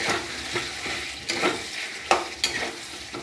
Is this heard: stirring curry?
yes